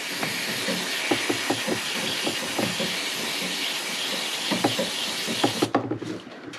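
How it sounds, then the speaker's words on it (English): A can of CRC QD quick-drying electronic contact cleaner sprays a long, steady hiss into a Subaru connector, with faint clicks underneath, before the spray cuts off near the end. "I'll just spray a generous amount in there."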